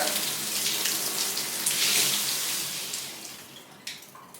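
A high-pressure 300-hole shower head sprays water in a steady, close hiss, with no talking, and the stream thins and tails off near the end.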